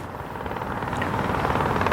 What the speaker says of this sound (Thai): เธอได้เสียงนั้นไหม เฮลิคอปเตอร์มาแล้วเร็วมาก